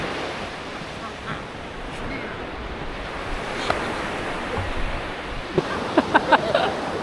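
Strong wind buffets the microphone over steady sea surf on the Latvian coast during a sea fishing trip, with a few sharp clicks and knocks near the end.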